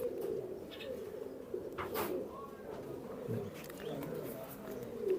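Pigeons of Indian and Pakistani high-flying breeds kept at a farm, giving soft, low cooing under steady background noise, with faint chirps and a brief mid-pitched call.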